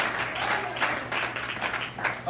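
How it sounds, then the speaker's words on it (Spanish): A church congregation at a Sunday service breaks into applause, a short burst of fairly quiet, dense clapping that swells and dips in waves for a couple of seconds. "Dele palmas al Rey de Reyes y Señor de Señores."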